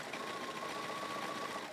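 A sewing machine stitches labels onto dresses, running in one steady, even whir with a constant mechanical hum from start to finish, moderately close, with no voices.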